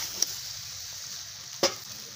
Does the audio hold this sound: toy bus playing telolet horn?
no